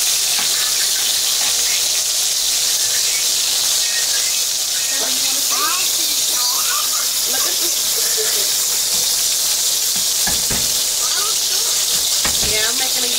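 Butter and a ribeye steak sizzle loudly in a hot pan, a dense continuous hiss and crackle that stays close and steady, with faint brief voices underneath.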